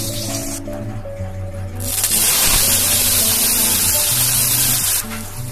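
A mixture drops into hot mustard oil in a wok and bursts into a loud, bright sizzle that holds steady for several seconds before easing slightly.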